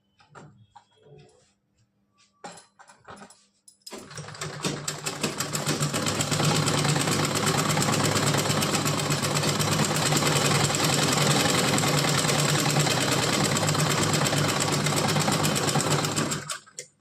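After a few soft clicks and taps, a sewing machine starts up and whirs loudly and steadily for about twelve seconds, running a straight seam on a small doll frock before stopping abruptly.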